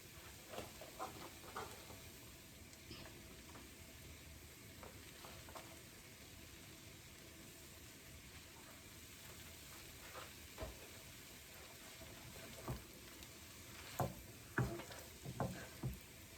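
Coriander leaves roasting in a pan, a steady faint sizzle and hiss with occasional scraping stirs and light ticks, close but soft, without talk.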